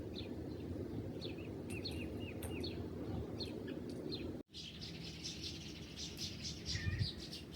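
Birds chirping and tweeting outdoors, repeated short calls over a steady background hum, with a brief dropout midway.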